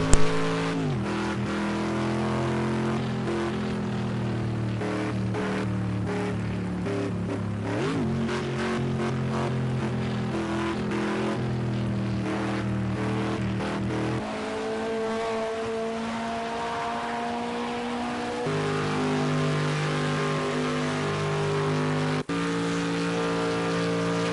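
A classic Le Mans race car engine drones and revs continuously, its pitch shifting through gear changes, loud and close with the engine sounding short on speed, no talk over it.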